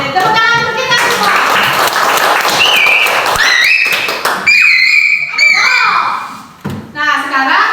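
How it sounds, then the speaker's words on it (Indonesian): A fourth-grade primary school class claps together during a practice lesson, with a burst of dense clapping and thumps that gives way to children's excited voices and chatter. "Oke, tepuk tangan untuk kita semua."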